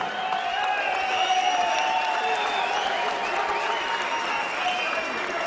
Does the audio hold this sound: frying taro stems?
no